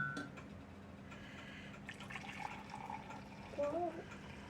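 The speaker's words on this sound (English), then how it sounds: "You can pour it in the measuring cup." Hot Dr Pepper poured into a measuring cup, a soft, steady liquid trickle with a brief gurgling splash near the end, heard amid room noise.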